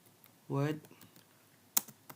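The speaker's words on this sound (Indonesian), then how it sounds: "di sini kita ketikkan forward" Keys on a computer keyboard click in a few sparse, quiet taps at close range, with a brief voiced murmur just before them.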